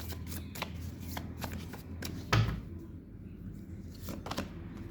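Tarot cards are shuffled and drawn, giving a close, soft riffling flutter with brief flicks and one louder snap of cards, quiet and without talk.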